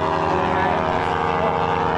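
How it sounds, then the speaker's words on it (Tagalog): A loud, steady racing motorcycle engine hum with a rough, buzzing drone, constant and close throughout, with no clear speech. "ayun na naman nga yung motor."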